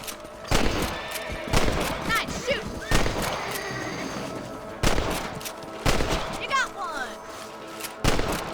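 Rifle shots in the Red Dead Redemption western video game, fired at rabbits on open farmland: several sharp, loud cracks spaced a second or two apart, with a voice talking between them.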